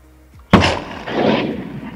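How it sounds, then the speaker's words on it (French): A single loud rifle shot cracks close by at an outdoor range with a target about 45 meters away, followed by a rolling echo that fades over the next second. "quand j'ai tiré le fusil"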